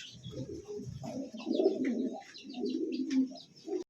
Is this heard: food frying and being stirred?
no